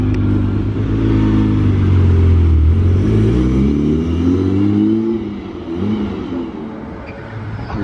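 A Ferrari 812 sports car revs and accelerates nearby, its engine note rising in pitch through the gears before easing off, heard alone without talk.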